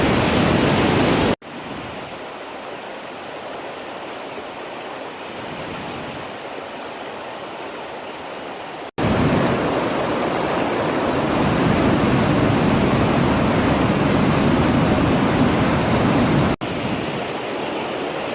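Waterfall swollen with heavy flood water on the Cataracts trail in Maine, a continuous broadband roar of rushing, crashing water, loud and near, with abrupt level shifts between segments.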